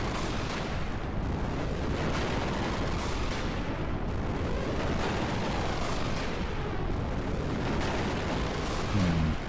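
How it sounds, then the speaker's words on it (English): A huge explosion in the final battle of the video game Xenogears, heard as a dense, sustained roar of rumbling blasts that keeps at a steady loud level for several seconds with no voices. "Gotta have a gigantic explosion"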